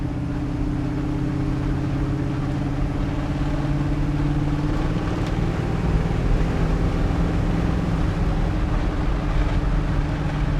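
A 1979 Chevrolet C10 truck on a test drive, its engine droning steadily with a low hum and clear pitch changes as the transmission shifts through the gears, with road and wind noise throughout.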